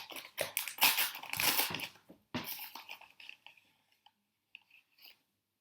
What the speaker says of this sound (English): we're going to put 5 big spoonfuls of cornstarch into the bowl